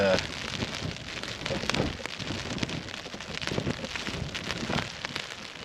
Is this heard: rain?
yes